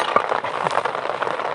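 Rain falls steadily in a village, a dense, even hiss of drops with a few louder splashes close by, continuous throughout with no voices.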